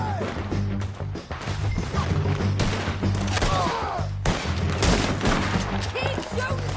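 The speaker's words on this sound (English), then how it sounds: "Keep shooting till they go get him!" Gunfire from a firefight in Red Dead Redemption 2, repeated cracking shots and crashes rattling on over a low droning score, with voices shouting now and then.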